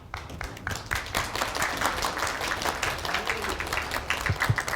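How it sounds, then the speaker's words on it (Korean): Warm applause from students at a university economics seminar lecture, a dense crowd clapping continuously for several seconds at a moderate distance, with some faint room murmur underneath. "우리 다시 한번 뜨거운 박수 부탁드리고"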